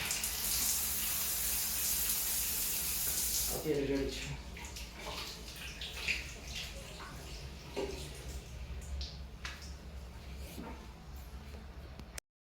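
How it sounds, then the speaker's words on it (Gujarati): Water sprays steadily from a freshly cleaned bathroom shower head, a loud close hiss for the first few seconds that then drops to a softer flow beneath someone talking. "ફુવારામાં પાણી પણ સારું આવે છે"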